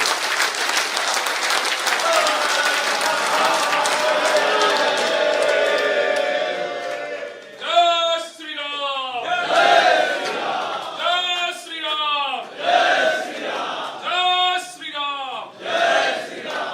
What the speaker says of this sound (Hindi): तालियां जोर से बजे और जोर से बजे, बजती रहे।